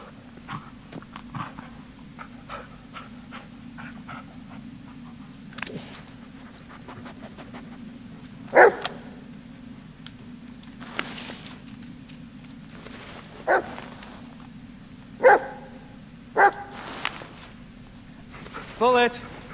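Barking from the dog companion in the Blair Witch horror video game, a few sharp separate barks spread across the clip over a steady low game ambience, with a voice talking in places.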